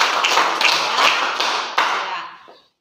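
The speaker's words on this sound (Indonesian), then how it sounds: "Tepuk tangan buat Galang dulu." A classroom of students claps for a classmate, a dense patter of hand claps with a few louder slaps standing out, fading away after about two and a half seconds.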